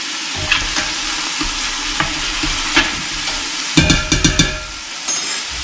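Vegetables sautéing in a pot for pea soup, a close steady sizzle broken by scraping spoon stirs, with a quick cluster of clanks near the end.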